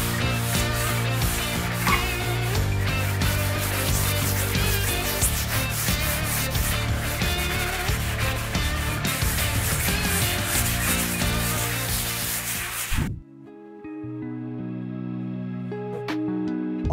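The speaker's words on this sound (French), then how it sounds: "casser des petites aspérités et ce qu'on appelle rayer finement, dépolir finement le feuille de l'impression parce que ça va quand même améliorer l'adhérence de l'enduit. Grain 220 et c'est parti" Steady, continuous close-up scraping of 220-grit sandpaper worked by hand over a painted hallway ceiling and walls, broken off abruptly near the end, with no voices.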